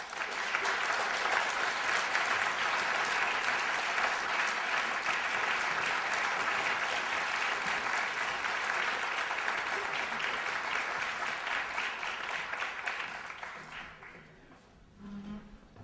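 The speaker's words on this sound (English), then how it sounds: "please give them your warm round of applause as they come to the podium" A debate audience at Fayetteville State University gives a warm round of applause as speakers come to the podium, sustained and even for around fourteen seconds before tapering off near the end.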